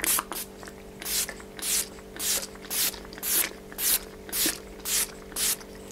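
A series of about ten quick hissing body mist sprays, evenly spaced and close, with a faint steady hum underneath.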